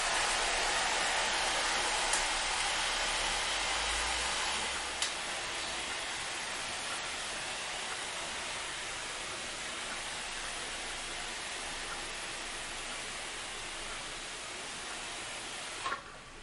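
An IK pump sprayer spraying water onto car glass, a steady loud hiss of fine spray that runs almost without a break and stops abruptly near the end, with no talking.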